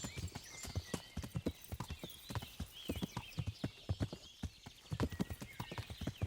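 A horse in the medieval game Kingdom Come Deliverance trots with steady, close clip-clop hoofbeats in an even rhythm, with occasional faint snorts.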